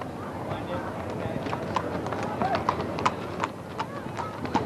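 Horses of the Ohio Horse Council walking in a town bicentennial parade, hooves clopping in an irregular rhythm on pavement under crowd noise and nearby talk.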